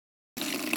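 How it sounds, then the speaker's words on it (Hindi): Tap water running while filling containers in a hill village, a steady broadband hiss that starts abruptly after a short silence and continues evenly. "तो पहले पानी भर लेती हूँ"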